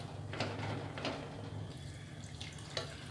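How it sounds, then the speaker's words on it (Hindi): Water poured from a glass into raw mutton mixed with sliced onion, salt and ginger garlic paste, giving a steady close splashing and trickling pour with a few brief louder gushes. "आधे ग्लास के करीब पानी डाल देंगे"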